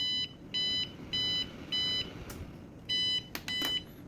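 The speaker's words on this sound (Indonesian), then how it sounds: "Nanti dia akan berjalan, buzzer pun juga akan menyala dan kipas juga akan menyala." A gas leak detector's buzzer gives loud, steady electronic beeps in a regular on-off pattern, about half-second bursts repeating, with a couple of sharp clicks near the end and no speech.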